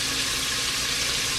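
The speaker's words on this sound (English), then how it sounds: "Of course, you want your bacon to cook to a nice," Bacon frying in a pan, a steady dense sizzle and crackle held at an even level from start to finish, close and loud, with no talk over it.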